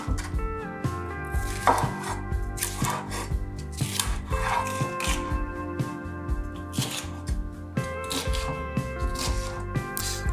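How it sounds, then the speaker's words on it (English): A knife slices andouille sausage into bite-sized pieces on a cutting board for red beans and rice, a steady run of close, crisp chops with a rhythmic beat and faint music underneath. "Next, slice the andouille sausage into bite-sized pieces."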